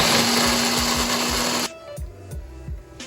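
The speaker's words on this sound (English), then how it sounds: "I'm just going to blitz my raspberries up till it forms a puree" A food processor blitzing raspberries into a puree, a loud steady whirring drone that cuts off abruptly partway through, followed by quieter knocks and rattles as the machine settles.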